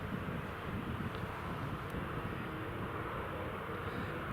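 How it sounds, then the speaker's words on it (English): Jet airliner taxiing slowly at Newcastle airport in rain, a steady distant engine rumble and hiss with wind noise, faint and continuous with no clear changes. "ClassJet's taking a very slow taxi."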